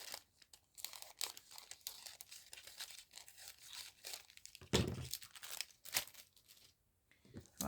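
A section of cellophane from a bag being handled and cut, crinkling and rustling in short bursts with sharper crackles, close and fairly quiet, with no talk.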